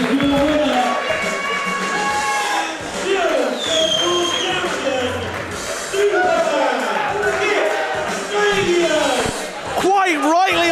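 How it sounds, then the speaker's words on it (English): An indoor independent pro wrestling crowd in a small venue claps and cheers after a match win, with steady applause and scattered shouts underneath an excited commentator talking throughout. "I can hear applause ringing out here in Unit 9."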